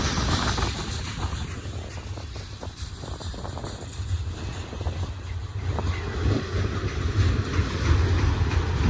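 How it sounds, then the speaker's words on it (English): BNSF heavy manifest freight train led by EMD SD70ACe and SD70MAC locomotives, hauling gondolas and tank cars, rumbling past with rolling clatter and wheel noise at fairly close range, steady and growing louder near the end. "Beautiful train."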